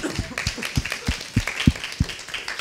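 An audience at a conference claps for two arriving dancers with sparse, uneven applause: a handful of distinct, fairly loud hand claps land close by at irregular intervals.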